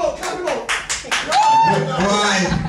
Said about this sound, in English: Give a round of applause, man!